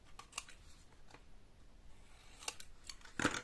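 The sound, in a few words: scissors cutting the edges of paper for a mini album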